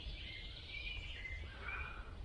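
Faint birdsong drifts in from a distance, a few soft chirps and warbles over a low, quiet rumble of outdoor ambience.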